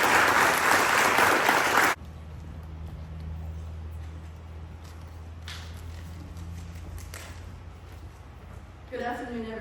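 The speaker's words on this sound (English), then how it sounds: "please join me in a round of applause for Jadyn Rausch" An audience applauds for Jadyn Rausch at her Southern Miss signing in a loud, full burst lasting about two seconds, then it drops to a quiet room hum before someone starts speaking.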